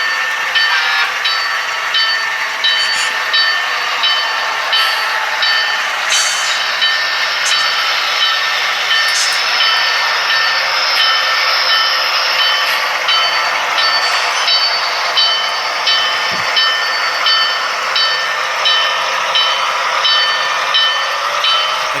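BLI Baldwin RF-16 Shark diesel locomotive model in Delaware & Hudson livery reversing into a stub-end yard on a home layout, giving a steady, loud mechanical hum with sound-decoder engine rumble and occasional brief whistle-like accents throughout.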